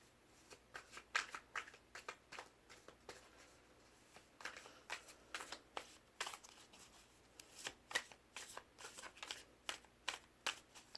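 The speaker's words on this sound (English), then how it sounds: "You guys mind that I have the cards here, or if you guys like seeing me shuffle." Tarot cards being shuffled by hand, a close, crisp run of riffling and sliding bursts in an uneven rhythm, quiet and without talk.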